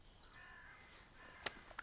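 Crows cawing from a tree, faint and somewhat distant, with a couple of sharp short caws near the end over quiet outdoor background.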